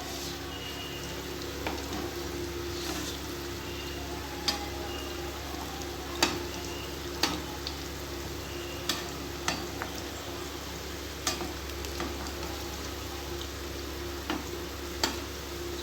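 Kaara bonda made from idli batter frying in hot oil, a steady soft sizzle and bubbling with scattered sharp pops and crackles at irregular intervals, fairly quiet and with no talking.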